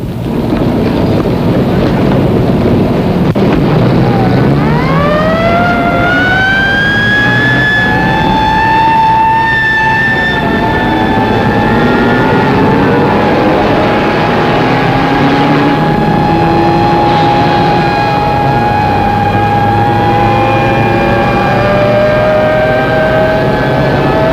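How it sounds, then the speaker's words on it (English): Four-engine aircraft with its number 4 engine on fire coming in for an emergency landing, a loud sustained engine roar with rising and falling whining tones sweeping over a steady rumble, alone with no talk. "Big Easy 3-7 with number 4 engine on fire will make an emergency landing on runway 27 left and to the west"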